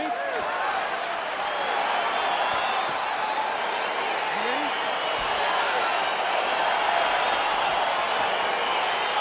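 Arena crowd in the UFC 4 fighting game roars and cheers steadily throughout, a dense loud wall of noise with faint commentary underneath.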